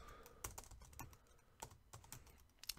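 Keys clatter on a computer keyboard in quick, uneven bursts, close and fairly faint, while someone types settings into RobotC robot programming software; no voices.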